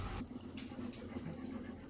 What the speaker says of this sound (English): I now turn the water back on there.